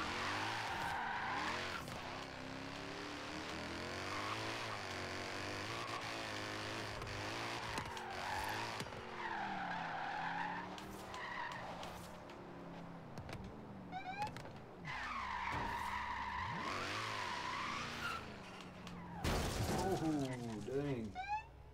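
Car wheelspin and tire skid from a car on snowy Blizzard Mountain in Forza Horizon 3: revving engine tones rise and fall with squealing tires through most of the stretch, loud and close, with a voice talking over it at times.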